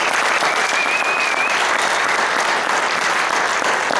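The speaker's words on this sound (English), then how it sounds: "Let's give him a round of applause." An audience claps in sustained, even applause that fills the room for about four seconds, loud and close, with a faint whistle rising briefly near the start.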